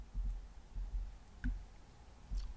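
Keyboard typing of a systemctl command, faint scattered key clicks and taps in short bursts, close and quiet in a still room.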